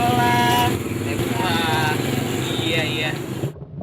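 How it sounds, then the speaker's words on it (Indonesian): A motorcycle engine revving and droning amid street noise, with shifting pitch as it accelerates and settles, fairly loud and close, with a voice present over it. "Yang suara motor, suara jalanan gitu."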